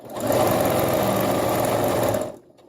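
A sewing machine runs in one steady, fast burst of stitching along the hem of a cloth diaper, close and loud, then stops abruptly near the end.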